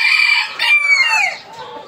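Bulik chickens on a Philippine breeding farm, a rooster crowing loudly and close with a long drawn-out call, mixed with clucking.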